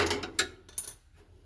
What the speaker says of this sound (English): Screw them in as far as you can